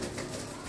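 Pigeons in a loft coo softly and steadily, a close, continuous murmur of several birds with no voices over them.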